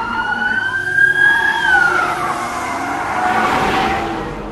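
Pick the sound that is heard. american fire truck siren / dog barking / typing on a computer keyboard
american fire truck siren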